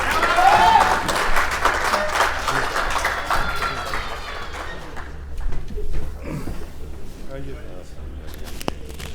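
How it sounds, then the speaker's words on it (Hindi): Audience applause greets a poet at a mushaira recital. The clapping is loud and dense at the start, then thins into scattered claps and murmuring over the following seconds. "आपकी भरपूर तालियों में जनाब सलीम हसरत साहब।"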